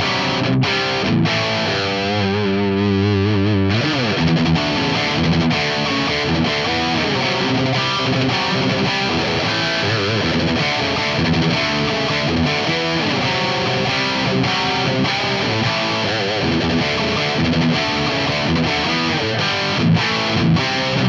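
Electric guitar played through a Boss Katana-Head MkII amp with increased gain and boosted mids, giving a thick, heavily distorted tone in sustained loud chords and riffs throughout, with no talking.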